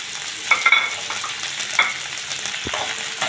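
Chopped capsicum and onion sauté in a hot pan for chilli chapathi, giving a steady close sizzle broken by a few scraping stirs, with no talk.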